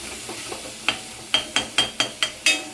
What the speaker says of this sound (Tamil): இந்த மாதிரி தக்காளியை வந்து நல்லா மிக்ஸ் பண்ணி விட்டுருங்க